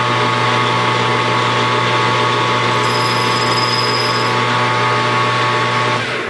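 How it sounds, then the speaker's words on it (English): A high-speed steel tool bit cuts on a lathe while cleaning up the end of a workpiece, giving a steady, loud machining drone with a thin high-pitched ringing chatter that sings through the middle of the cut. "you heard it sing there? It'll chatter"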